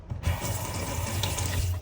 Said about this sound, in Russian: Давайте проверим напор воды.